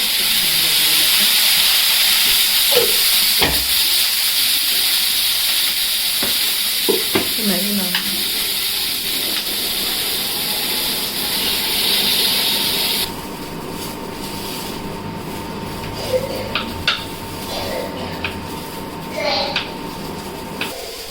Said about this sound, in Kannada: ಇವು ನೋಡಿ, ಈ ಥರ ಫ್ರೈ ಆಗ್ಯಾವ